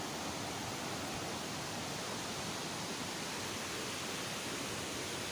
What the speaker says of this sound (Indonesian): Ini kita melihat aliran sungai yang jernih ya, yang alirannya berasal dari PLTA Saguling